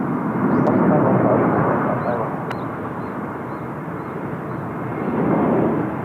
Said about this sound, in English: Airbus A321 just touching down there in front of us